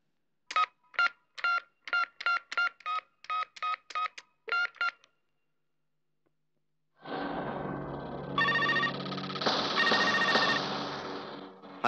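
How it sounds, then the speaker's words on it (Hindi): A mobile phone number is dialed with about a dozen quick keypad beeps in an even rhythm. After a short silence, a louder, continuous ringing tone follows on the line. "जरा लुक्का का नंबर मिला।"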